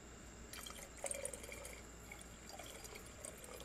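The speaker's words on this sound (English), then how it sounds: "And now we're going to mix in a little bit" Water is added into a glass bottle of mugwort-and-vodka tincture, a faint, steady trickle with small drips and a soft clink, heard quietly close by with no talk.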